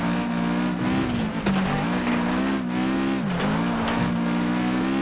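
Racing car engine in the video game Flatout 2 holds a loud, sustained roar that climbs and shifts through gears, with brief tire squeal around a corner, no talking over it.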